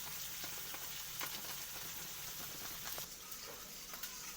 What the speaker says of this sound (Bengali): সামান্য ব্রাউন কালার যতক্ষণ না হবে ততক্ষণ এটাকে মিডিয়াম আঁচে ভেজে নিতে হবে।